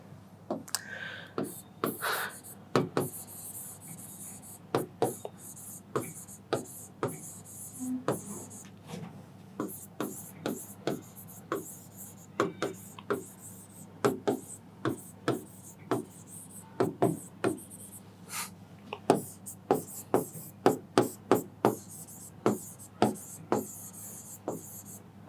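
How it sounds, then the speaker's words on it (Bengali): Pen or chalk writing by hand during a mathematics lecture, a long run of short scratchy strokes and taps in uneven bursts, fairly close and clear over a quiet room with no talking. "আমি একটু লিখি।"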